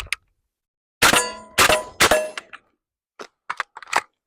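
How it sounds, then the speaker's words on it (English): An AR-15 bullpup conversion drops its magazine during a reload: three sharp, ringing metallic clangs in close succession, then several lighter clicks and knocks of handling nearby. "So there's our mag drop."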